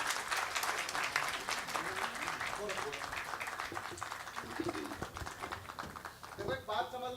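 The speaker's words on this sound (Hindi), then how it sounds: "एक बार तालियां बजाइएगा प्राची गोरखपुरी को।" An audience at a kavi sammelan, a Hindi poetry gathering, applauds a poet with sustained, dense clapping that fills the room and tapers toward the end, with voices faintly underneath.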